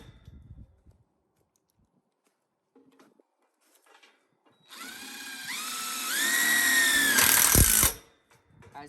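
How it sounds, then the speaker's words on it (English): A power drill fitted with a 3/16 bit bores into a gate control box part for a hog trap, a rising whine that climbs in pitch over about three seconds, close and loud, then cuts off abruptly. "I just drilled the top. That's all you have to do with the 3/16 bit."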